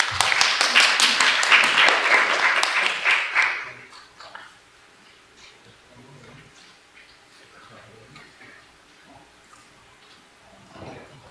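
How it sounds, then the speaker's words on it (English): A symposium audience breaks into a big round of applause, loud and dense for about four seconds before quickly dying away to a quiet room with faint scattered noises. "Please join us with him with a big round of applause."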